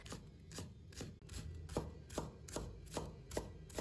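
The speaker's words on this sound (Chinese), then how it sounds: "把葱白切成小粒" A knife chopping scallion whites into small pieces on a cutting board, with quick, even, rhythmic taps about every third of a second, close and fairly quiet, with no talking.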